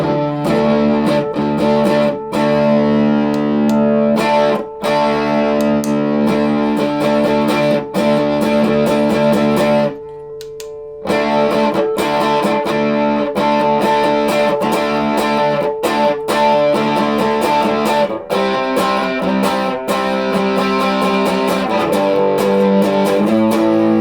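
Electric guitar played through a Kalavera FX Voltan Drive pedal on the bridge humbucker, giving tight, crunchy distorted chords and riffs that ring loud and steady, with one brief gap near the middle.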